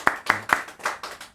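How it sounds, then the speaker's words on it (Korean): A church congregation claps together during a Sunday worship service, a few sharp, loud hand claps in quick rhythm that soften and blur as they trail off. "지금 우리 박수 한번 칩시다"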